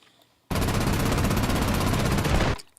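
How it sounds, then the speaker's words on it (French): Aircraft machine guns strafe the ground in the War Thunder combat game, a loud, dense continuous burst of rapid gunfire lasting about two seconds after a quiet start, then cutting off abruptly. "Donc il descend une boucle, il tire au sol."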